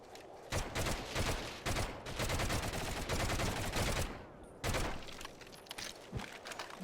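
Heavy gunfire in the video game Medal of Honor Heroes: dense bursts of automatic fire and overlapping shots, loud and close, broken by a few short pauses.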